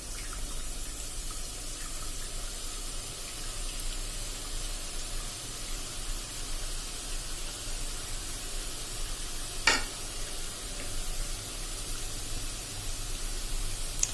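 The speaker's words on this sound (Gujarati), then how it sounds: "આપણે જ્યાં સુધી તેલમાં પૂરું થઈ જાય ને ત્યાં સુધી આપણે આ રીતે બેટર નાખતા જાશું." Boondi batter for motichoor laddoos sizzles steadily in hot ghee over a medium flame, a continuous bubbling hiss with no voices and one brief clink partway through.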